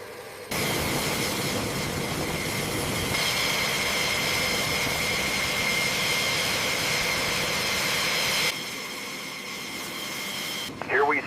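An F-16 fighter jet on takeoff, a loud, sustained engine roar with a high whine that holds steady, then drops abruptly near the end.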